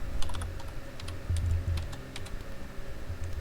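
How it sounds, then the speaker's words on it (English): Someone types steadily on a computer keyboard close by, with quick, uneven clusters of keystrokes and no talking over them. "Try to type around the microphone"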